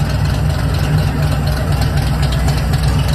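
A loud supercar engine idles at a Nashville Cars and Coffee meet, a deep, steady rumble with uneven low burble that stays close and strong throughout, with no voices heard.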